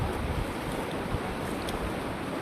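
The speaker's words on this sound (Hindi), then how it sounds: "तो पानी का बहाव आप देख पा रहे हैं कितना तेज़" Fast-flowing flood water rushes under a culvert after heavy rain, a dense continuous roar at steady loudness, close and unbroken, with no voices.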